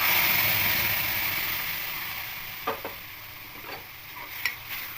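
Steady sizzling of onions frying in hot oil, gradually easing, with a few light clicks of a utensil stirring the pan.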